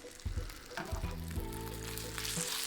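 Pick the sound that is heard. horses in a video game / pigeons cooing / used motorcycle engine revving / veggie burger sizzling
veggie burger sizzling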